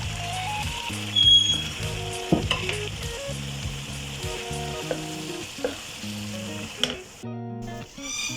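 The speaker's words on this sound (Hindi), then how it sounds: "हम इसमें अच्छी तरीके से दाल को भी 2 से 3 मिनट अच्छी तरीके से भून लेंगे इस मसाले के साथ" Dal being fried with masala in a pan, a loud steady sizzle with scraping stirs and clinks of a spoon, some tonal background music running beneath.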